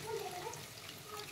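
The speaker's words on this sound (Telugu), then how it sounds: "నేనైతే ఈ గ్లాస్ వాటర్ పోసుకుంటున్నాను" A glass of water poured into a pot of cooking mutton curry gives a short, soft splashing gush, quiet and close, lasting only a moment.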